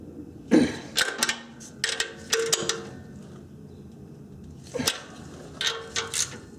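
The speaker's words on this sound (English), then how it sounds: "I'm only using a 1/4 inch drive ratchet." A 1/4 inch drive ratchet turning exhaust bolts on a Honda Accord mid pipe: several short bursts of rapid clicking and creaking, fairly close, separated by pauses.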